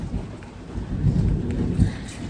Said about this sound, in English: I hope the rain is not louder than me.